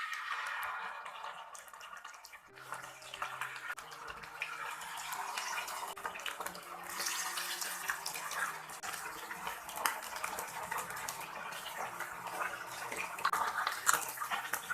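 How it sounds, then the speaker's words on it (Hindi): Fish sizzles and crackles in hot oil in a frying pan. After a quiet start, it breaks into a steady, bubbling hiss with scattered pops and spits, heard alone. "ऑयल हमारा गर्म हो चुका है। तो अब इसमें हम फिश डाल देते हैं।"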